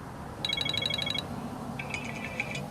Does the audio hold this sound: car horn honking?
no